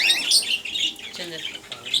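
Cockatiels and budgerigars chirping and squawking in a busy, overlapping chorus, close by, with a voice faintly mixed in.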